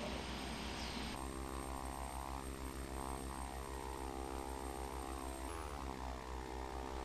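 Turboprop aircraft engines at takeoff power, a loud continuous propeller drone with a steady tonal hum and pitch shifts partway through, close and sustained without speech.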